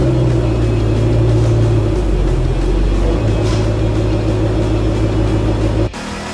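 A supercharged, custom-tuned 2013 Shelby GT500 with an upgraded pulley, air intake and throttle body roars on a chassis dyno in a loud, sustained pull with a deep droning tone that shifts midway, then cuts down sharply near the end.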